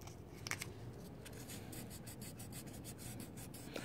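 A scissors edge scrapes and spreads J-B Weld epoxy over a cracked GY6 scooter crankcase, making quiet, close rubbing strokes in short repeated passes.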